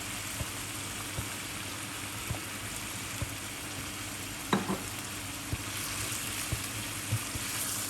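Pork belly simmers in light and dark soy sauce with a little sugar until the liquid cooks down, a steady soft sizzle and bubbling hiss with occasional faint clicks of a utensil against the pan.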